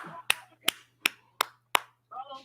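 A person claps their hands five times in a steady rhythm, sharp and close, with brief speech just before and after the claps.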